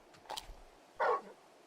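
Torgal, a large dog in the video game Final Fantasy 16, gives a couple of short, faint barks or yips, one brief louder bark standing out in a quiet moment.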